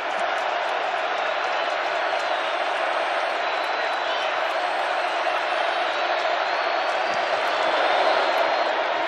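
Packed stadium crowd at an NFL divisional playoff game between the Buccaneers and Lions, a broad, steady roar of many voices, loud and unbroken, swelling slightly near the end.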